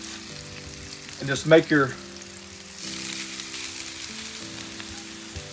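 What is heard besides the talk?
hash browns frying in butter and avocado oil on flat top grill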